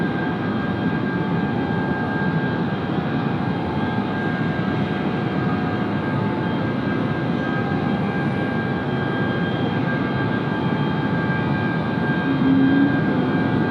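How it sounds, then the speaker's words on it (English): A powerful aircraft engine roars steadily at high power during an engine run at Sydney Airport, heard from some distance, a constant dense drone with no breaks. "That is a high-powered engine run."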